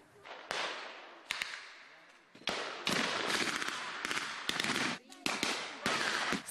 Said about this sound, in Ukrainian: Стрілянина не вщухає